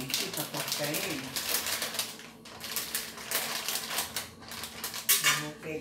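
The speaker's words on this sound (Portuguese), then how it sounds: "Deixa eu tirar agora esse franguinho aqui para cortar ele." Cutlery scraping and clinking on a plate while cutting chicken at a lunch table, a busy continuous run of close metallic scrapes and taps, with a voice talking in the background.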